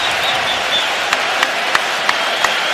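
Raptors fans in a packed NBA arena applauding and cheering, a dense steady roar of clapping with a few sharper claps standing out, loud and continuous.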